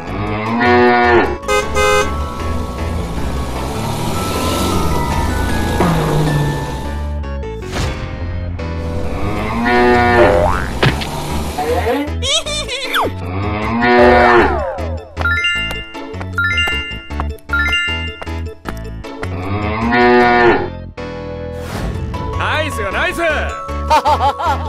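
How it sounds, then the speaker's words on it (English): A cow moos in several long, loud, drawn-out calls, mixed with chiming jingles and other playful effects, while a voice speaks at times between the sounds. "Cow."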